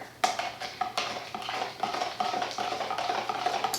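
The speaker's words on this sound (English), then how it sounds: "now that we have our walnut shell in and our essential oils in, we're gonna give it a really good stir" A spoon stirs a mixture of ground walnut shell and essential oils in a bowl, producing a quick series of light scraping clinks and taps against the container in an uneven rhythm, close and without speech.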